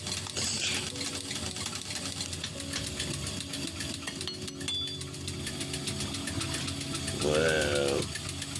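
A spinning lathe drones steadily as a workpiece is hand wet-sanded with sandpaper and water, a continuous mechanical whir with light scraping, with a brief tonal rise near the end.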